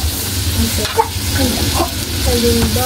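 Ginger sizzles steadily in hot oil in a pan while a utensil stirs it, producing a loud, continuous frying hiss with scraping and clinking stirring sounds throughout.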